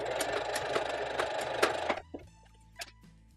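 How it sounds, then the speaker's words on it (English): Sewing machine running a zigzag stitch along the elastic casing of a cloth pocket diaper, a steady close mechanical whir with rhythmic needle ticks for about two seconds, then stopping, followed by faint handling sounds. "And you're going to go again with a zigzag stitch."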